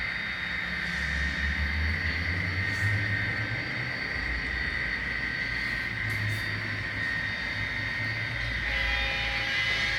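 A model train on an N scale layout rumbles past steadily for the whole stretch, low and continuous, with a faint high whine and no voices.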